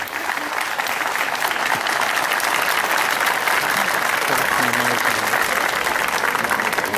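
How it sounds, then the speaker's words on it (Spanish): Crowd applauding at a swearing-in ceremony for new local authorities in a town plaza, thick, continuous clapping that holds steady and loud throughout, with a faint murmur of voices underneath. "Gustavo Medrano, un fuerte aplauso una vez más."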